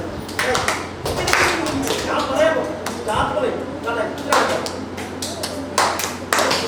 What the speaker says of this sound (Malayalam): താളത്തിൽ കൈയടിക്കണം.